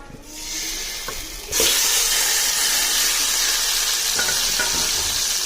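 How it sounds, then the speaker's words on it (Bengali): Marinated chicken hits a hot wok for chicken biryani, bursting into a loud, steady sizzle and hiss that holds unbroken after a quieter opening moment. "এখন আমি কড়াইতে দিয়ে দিব"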